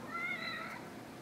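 A cat in the video game The Evil Within lets out a single drawn-out meow, close and clear at moderate volume.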